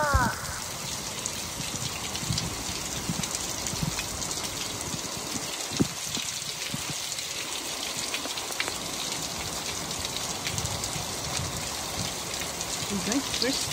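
Heavy rain falls steadily on surfaces outdoors, a dense continuous patter with a brief faint voice near the end.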